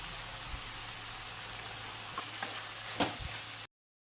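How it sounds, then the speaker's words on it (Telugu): Brinjals sizzle steadily in a hot pan for vangi bath, seasoned with salt and turmeric, with a continuous close frying hiss, occasional stirring clicks and a short silent gap near the end. "వంకాయలన్నీ బాగా ఫ్రై అయినాయి కదా"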